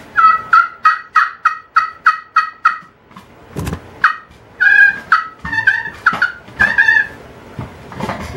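A wild turkey answers an illuminator call. A fast run of sharp, rhythmic calls comes first, then several loud, rolling gobbles close by in open morning air.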